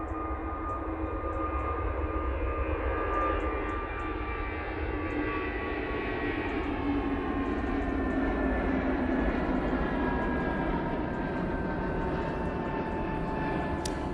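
An easyJet jet airliner at Manchester Airport gives a steady, loud engine roar with a slowly shifting whine, sustained throughout without pause and no voices over it.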